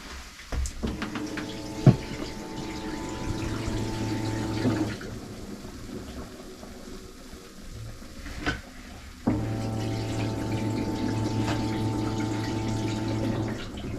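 A small marine shower pump in a 1973 camper hums steadily while water runs, stopping briefly midway with a few clicks, then starting again with the same even drone.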